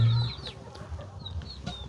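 Chickens at a rural house without electricity give a few short clucks over low rumbling background noise, brief and close.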